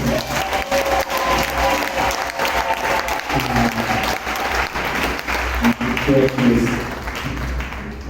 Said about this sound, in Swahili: tumuongezee tena Yesu makofi